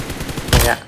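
Gunfire in the mobile game PUBG Mobile, a single loud, sharp shot bursting out after quiet game ambience and fading quickly.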